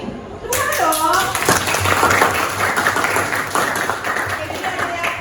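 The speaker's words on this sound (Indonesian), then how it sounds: "Tepuk tangan dong." High school students in a classroom clap their hands together in a lively, sustained burst, with children's voices chattering over the clapping.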